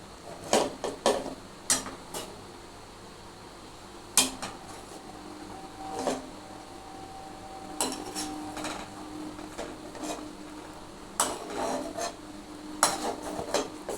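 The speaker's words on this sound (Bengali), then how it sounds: "এটা কিন্তু আমি একদম হাতা দিয়ে দিয়ে এর মধ্যে তুলে নেব" A metal ladle scrapes and clinks against a pot while scooping out boiled chitol fish, giving sharp irregular knocks and scrapes spaced a second or two apart over a quiet kitchen background.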